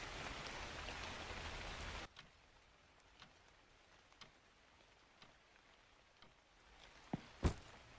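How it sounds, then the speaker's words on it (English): Heavy rain pours steadily in a video game set during a night shift at a convenience store, then cuts off abruptly after two seconds, leaving a quiet background with a few scattered ticks and clicks. "It's raining."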